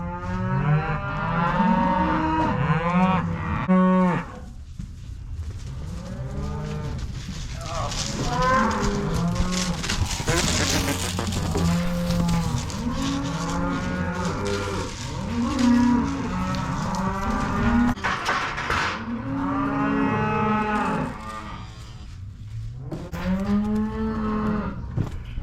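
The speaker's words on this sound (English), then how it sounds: "We're down to 1 calf and 3 cows." Three cows and a calf moo loudly and almost without pause, long overlapping calls from several animals close by, some low and some higher, rising and falling through the whole stretch.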